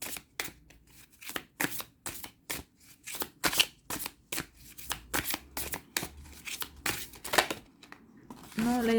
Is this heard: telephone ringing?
no